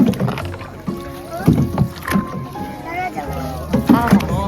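Canoe paddled across a mountain lake at Moraine or Louise Lake in Banff, with repeated paddle strokes and water sloshing close by under steady conversation and laughter from the paddlers.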